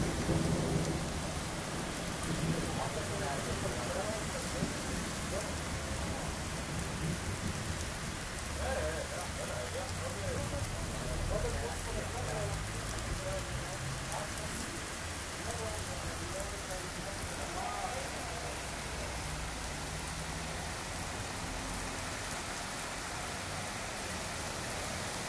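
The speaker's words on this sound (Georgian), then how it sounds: "ძლიერი წვიმა ამ წუთებშიც" Heavy rain pours steadily over Tbilisi's Saburtalo district, with thunder rumbling low through a dense, continuous wash of falling water and drops striking surfaces, no talk heard.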